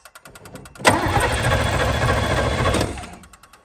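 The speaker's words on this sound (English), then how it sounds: "Oh, it cranks." A 1983 Chevrolet Camaro Z28 5.0L V8 HO engine cranks briefly, then catches and roars into a loud, steady run for about two seconds before cutting off, with faint clicking before and after.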